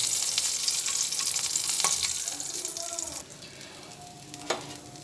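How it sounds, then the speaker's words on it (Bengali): Oil sizzles and crackles steadily as whole garam masala spices and bay leaves fry in a pan, with a stirring scrape and a sharp clink partway through. "গোটা গরম মশলা আর তেজপাতা একসঙ্গে ভেজে নিচ্ছি"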